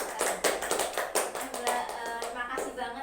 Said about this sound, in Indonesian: tepuk tangan buat Mbak Sinta